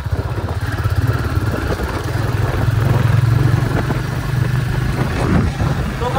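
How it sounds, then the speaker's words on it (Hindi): A motorcycle engine rumbles close by with a steady low throb that swells and eases as the bike moves off, with some rattle from the machine. "ये हमारी बाइक से जाएंगे।"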